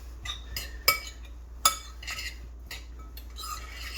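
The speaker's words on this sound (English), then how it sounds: "Now I'm gonna need 1 little spoon to do a little mix on it" A little spoon mixes crab pâté in a dish, giving soft scraping stirs broken by two bright clinks of metal on the bowl, close and quiet with no talk.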